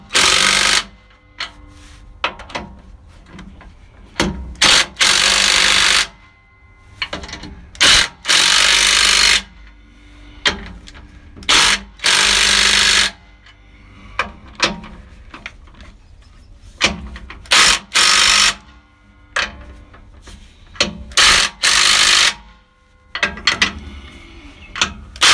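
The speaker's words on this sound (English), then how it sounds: "now we'll take our handy impact gun" An impact gun tightens lug nuts on a truck in repeated loud rattling bursts, each lasting a second or two and separated by short pauses, close up with no speech.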